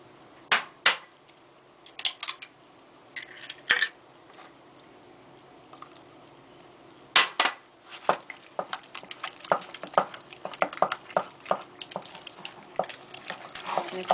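Cream puff dough being mixed by hand in a bowl with eggs added, sparse sharp taps and scrapes of the utensil against the bowl, quiet, irregular and close, growing busier toward the end.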